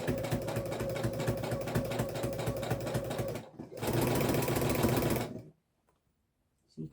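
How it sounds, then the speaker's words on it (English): A walking-foot sewing machine stitches through thick layers of fabric while bias binding is applied, a loud steady mechanical rattle running for about five seconds with a brief pause before stopping. "Now my walking foot's a little bit noisy, so let's just show you how it works."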